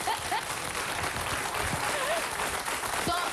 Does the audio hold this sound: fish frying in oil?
no